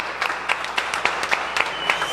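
A church congregation claps in a steady rhythm. The sharp claps repeat at regular intervals over soft room noise and last the whole short stretch.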